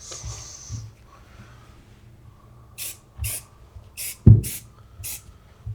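A spray can gives five short hissing bursts in quick succession, fairly close, separated by brief pauses, with light handling noise and a thump between them.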